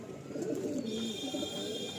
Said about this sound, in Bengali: এই হলো ফিমেল পিজিয়নটা